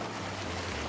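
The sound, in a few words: waterfall in a mountain village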